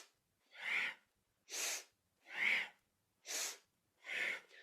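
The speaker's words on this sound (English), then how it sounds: "Inhaling up, exhaling down." Powerful breathing during kundalini yoga practice: five strong, evenly spaced breaths, alternating inhales and exhales with breathy hiss, each about half a second with short silences between, close and fairly quiet.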